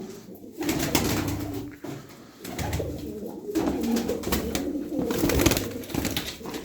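Pigeons coo in repeated, throaty rolls, close and fairly loud, with a few pauses between phrases and no voices.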